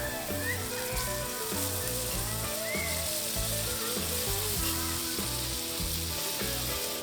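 Soft-shell crab frying in a pan, watermen style, with a steady loud sizzle and crackle throughout under background music.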